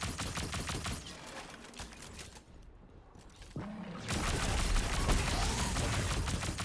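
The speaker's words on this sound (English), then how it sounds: "solar auto rifle doing a lot more damage with this thing" Rapid automatic fire from a solar auto rifle in Destiny 2, loud sustained bursts that pause briefly midway before resuming heavier, with game effects layered underneath.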